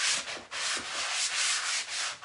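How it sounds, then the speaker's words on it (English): Hand sanding of a fabric-upholstered chair before it is painted, heard as rhythmic, close rubbing strokes, about eight back-and-forth passes with brief pauses, with no talking. "I'm back to our sanding again."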